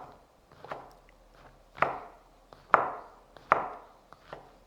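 Knife chopping sliced mushrooms on a cutting board, heard as a run of separate sharp taps, with four clear strong strikes and a few lighter ones spaced unevenly. The taps are close and there is no talk.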